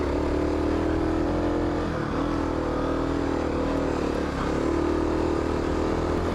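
A Kawasaki KLX 250 dirt bike ridden on single track sends out a steady engine drone close by, with brief throttle dips and swells as it works over braking bumps.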